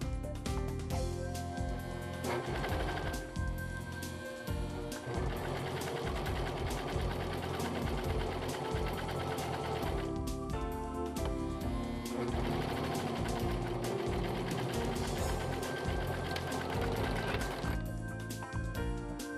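A Brother overlock serger runs a decorative stitch from one end of the fabric to the other, a loud steady mechanical whir that continues almost without a break, easing briefly twice.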